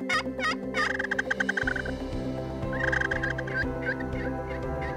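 Wild turkeys gobble outdoors during a hunt, answering hunters' calls: several rapid, rattling gobbles come in quick succession and carry clearly over a steady low background hum, with no talking.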